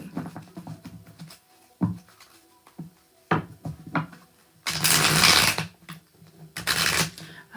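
Playing cards being shuffled close up, with bursts of riffling and bridging and sharp clicks and taps between them, loud and with no talk over it.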